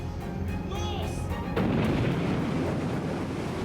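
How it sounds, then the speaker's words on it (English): Warships open fire on the ship Justicia under tow at dawn, a sudden heavy boom rolling into a sustained roar, following a narrator's voice. "They opened fire."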